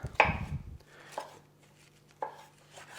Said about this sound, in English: I break the joint and then give it a little bit of a cut